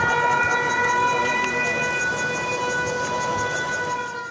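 An air raid siren sounds during Taiwan's Han Kuang 41 military exercise, a loud sustained wail holding steady tones throughout and fading slightly toward the end.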